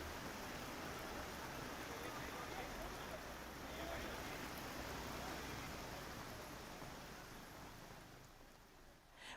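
Heavy rain pouring down in Mumbai, a dense unbroken hiss of water falling on surfaces, steady and loud throughout with no clear breaks.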